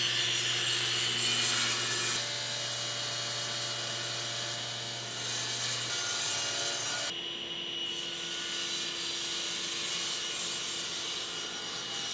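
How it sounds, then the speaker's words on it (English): A table saw rips a wood board to width, a loud steady whine with the blade cutting through the stock, its pitch and tone shifting partway as the cut progresses, close up with no talking. "I'll rip it to its final width at the table saw"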